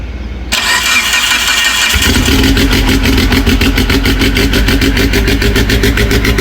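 Cold start of a tuned Mitsubishi Evo engine on its first firing of the day: a brief cranking burst, then the engine catches and settles into a loud, close, steady idle with a regular pulsing rhythm.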